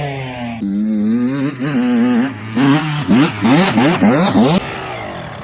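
A motorcycle's engine revs hard as the rider throttles through, rising and falling in pitch across repeated surges, loud and close, during a coaching session.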